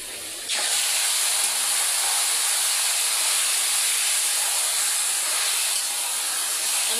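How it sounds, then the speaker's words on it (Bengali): Onion and garlic hit hot oil in a pan on a stove, a loud, steady broadband sizzle that starts abruptly and hisses continuously up close, with no talking. "আমি এখন কচু শাকটা একটু বাগার দেবো, তার জন্য চুলার উপরে তেল দিয়ে তেলের উপর পেঁয়াজ রসুন দিয়ে"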